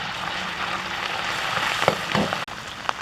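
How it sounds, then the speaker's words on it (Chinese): Minced pork frying in a wok with oil while being stirred, a steady close sizzle with a few louder scraping and stirring bursts, no voices. "再把剁好的肉末下锅炒"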